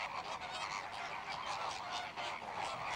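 Greater flamingos at the Molentargius wetland near Cagliari give a dense, goose-like honking chorus, many birds calling over one another in a steady, fairly quiet and distant wash of sound with no talk.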